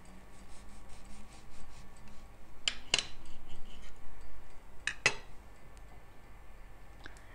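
A knife cutting a freshly baked cake into slices: a few quiet scraping strokes, two clusters of crisp cuts separated by a pause, then a faint final tick, with no talk over a soft background hiss.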